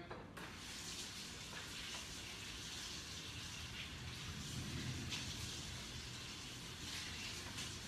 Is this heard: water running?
yes